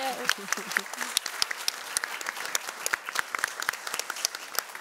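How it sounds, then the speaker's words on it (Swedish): Audience applause for a panel after a Swedish discussion on artificial intelligence and digitalisation, a dense, fairly soft patter of many hands with a voice speaking over it near the start. "En stor applåd till panelen."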